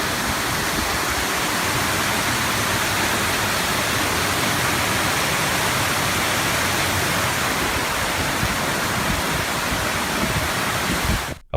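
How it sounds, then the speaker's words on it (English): Water pours down a waterfall that is flooding a train station, making a loud, steady roar of dense rushing noise that goes on without a break for about eleven seconds and then stops suddenly. "There's the waterfall."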